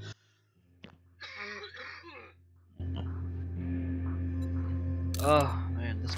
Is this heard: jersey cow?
no